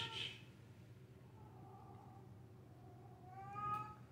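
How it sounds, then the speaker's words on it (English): Domestic cats meowing indoors, one short cry at the start and a longer, rising meow near the end, faint over a low steady background hum. "Sorry, my cats."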